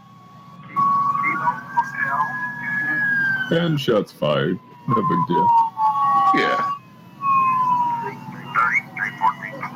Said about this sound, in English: you hear sirens start to fire up